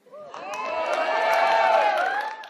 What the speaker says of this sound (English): give me a cheer if you think women are more intelligent than men